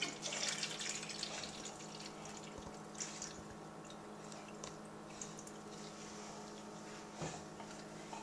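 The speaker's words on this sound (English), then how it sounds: "So I'm going to just right now just fill this in with just regular water." Plain bottled water pours into a SodaStream bottle, a steady, faint trickling stream with light splashing and gurgles running throughout, close by and free of talk.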